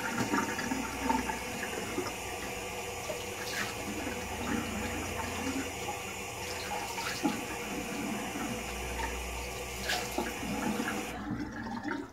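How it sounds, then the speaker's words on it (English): Cold water runs from a tap into a sink, a steady, fairly quiet splashing rush with a few soft clunks and taps that cuts off abruptly at the end, with no talking. "Cold water running."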